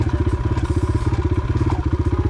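A motorcycle engine revs in quick, regular pulses during short wheelie pop-ups, a loud, close, throbbing exhaust note with a fast rhythmic beat throughout.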